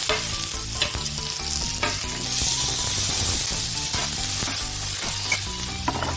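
Potatoes fry in a pan for a sabudana pulao, giving a steady loud sizzle with repeated scraping stir strokes throughout, while background music plays underneath.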